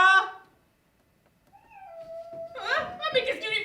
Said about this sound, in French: Le chat. Il miaule bizarrement.